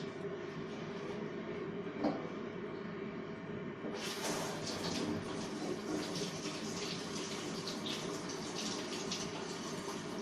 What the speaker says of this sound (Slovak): A potom už to treba len pod vodou opláchnuť.